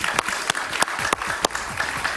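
Studio audience of a television talk show applauding a guest, a short burst of steady clapping with a few sharp, louder claps standing out near the microphone.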